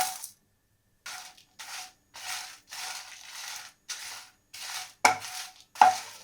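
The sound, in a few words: frying Kashmiri dried red chillies in a pan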